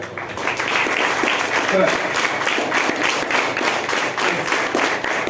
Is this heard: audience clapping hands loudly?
yes